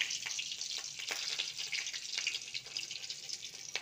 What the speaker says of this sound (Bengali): দিয়ে দিচ্ছি চেরা কাঁচা লঙ্কা